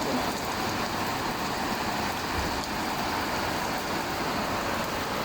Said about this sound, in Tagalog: So, lakas talaga ng ulan.